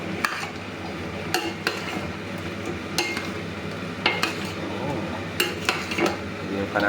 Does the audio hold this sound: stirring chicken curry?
yes